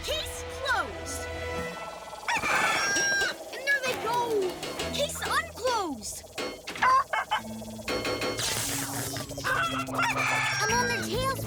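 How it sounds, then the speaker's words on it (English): Cartoon chickens cluck and a rooster crows in a busy, fast-moving scene, with the animal calls mixed under lively character speech and music. "We're chasing down some chickens."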